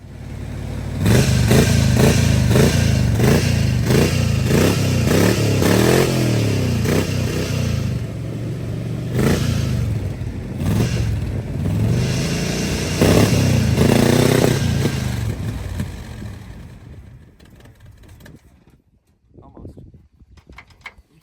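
A Jeep CJ5 engine runs roughly after fuel priming, revving and sputtering loudly up close in uneven bursts before cutting out, with people talking nearby.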